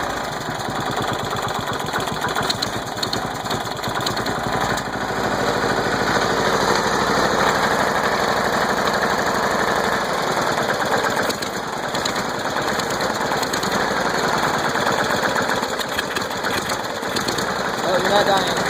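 A small engine that had been flooded runs steadily after its first restart with a cleaned starter, a continuous buzzing drone holding for the whole stretch at close range.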